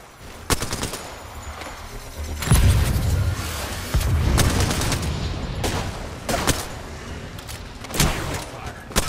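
Rapid close-range gunfire in Apex Legends, including a Peacekeeper shotgun, comes as sharp loud cracks and bursts in quick succession, with heavy booms mixed in amid the chaotic fight, while voices talk over the action.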